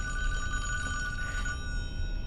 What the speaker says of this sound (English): Oh, we got a phone ringing.